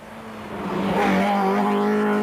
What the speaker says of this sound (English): Number 41, and that was Aidan Marrow, and he was driving a Talbot Sunbeam also.